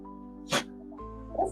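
A single short, sharp sneeze from a puppy, close and clear over a quiet humming background, followed by a faint shorter sound.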